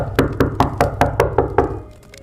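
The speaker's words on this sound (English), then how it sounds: "The banging on the door grew louder." Loud banging on a door comes as about eight heavy, evenly spaced blows in quick succession before the sound dies away, alone and close.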